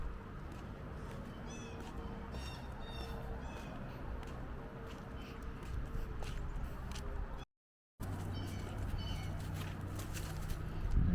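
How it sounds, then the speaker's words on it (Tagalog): Outdoors on a warm morning, several birds call repeatedly in harsh, nasal bursts at moderate distance over a steady background hiss, with a brief dropout partway through. "Ang ingay ng ibon."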